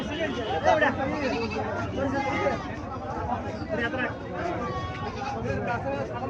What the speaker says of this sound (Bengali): এখানে আরো একটা ব্ল্যাক বেঙ্গল ছাগল পাওয়া গেল